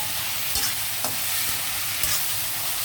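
Steady sizzle of vegetables and dried fish curry simmering in a pan with tamarind and tomato, a continuous close frying hiss with a few faint stirring scrapes and no talk.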